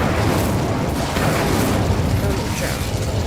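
Fiery spell blast cast in Hogwarts Legacy, a dense roaring burst that holds steady and loud for a few seconds with no voice over it.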